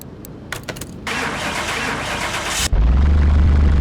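A car engine starts in Car Mechanic Simulator 2021. A few clicks come first, then a cranking whir, and the engine catches into a loud, steady low idle.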